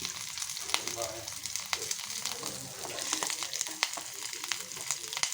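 Chopped small onions and slit green chillies fry in oil for a drumstick-leaf chutney, making a constant bright sizzle with scattered crisp pops and crackles, close and moderately loud.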